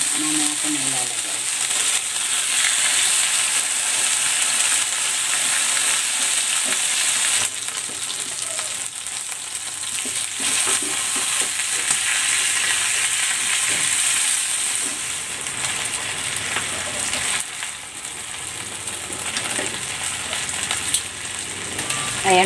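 Marinated chicken legs fry in a pan with a loud, continuous sizzle and crackle, occasional clatter of the pieces being placed and moved, close up throughout.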